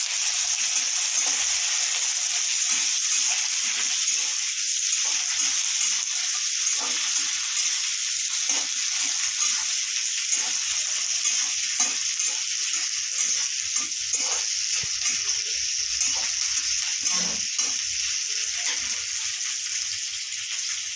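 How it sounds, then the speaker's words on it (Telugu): Green chillies frying in about three spoons of oil in a pan, a steady continuous sizzle running throughout, close and fairly loud, with no talking. "చూడండి ఫ్రెండ్స్, మంచిగా ఫ్రై అవుతున్నాయి పచ్చిమిరపకాయలు"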